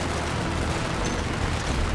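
Dense, continuous gunfire roars without a break, a thick wash of rapid shots and rumbling blasts from a heavy machine gun in a Red Dead Redemption 2 game battle.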